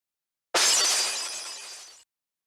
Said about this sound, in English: the golden shadow made a delicate sound and shattered into pieces